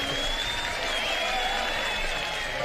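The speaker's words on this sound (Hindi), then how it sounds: "हाँ भाई, इब्राहिम साहब के लिए तालियां तो बजाएं यार।" Studio audience applause at a Pakistani television game show, a dense, even wash of clapping that stays steady and loud for the whole stretch with no talk over it.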